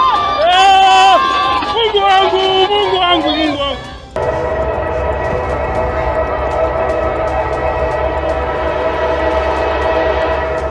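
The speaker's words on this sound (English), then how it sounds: "Train in South Africa derails and falls into nearby ditch." A train in South Africa sounds a loud, wavering horn, then the heavy rolling roar and grinding of rail cars takes over as it derails into a ditch, continuing steadily to the end.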